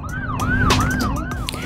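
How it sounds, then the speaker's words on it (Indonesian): An ambulance siren wails loudly and close on a busy road, sweeping up and down in quick repeating cycles over traffic noise. "Di belakang mobil itu terdapat ambulans dengan suara sirine yang terus menyala."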